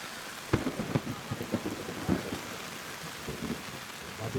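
Heavy rain pours down over an outdoor football stadium during a local halal bi halal match, a steady wash of noise broken by several sharp spattering bursts and what may be distant thunder.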